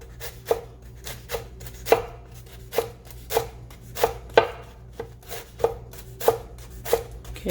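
A knife thinly slicing collard greens on a cutting board, with crisp evenly spaced cuts about every half second, each a sharp tap against the board, close and clear, with no voices.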